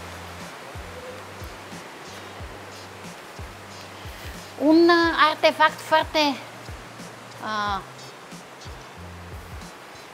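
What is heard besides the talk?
sea waves at the Byala fortress, Bulgaria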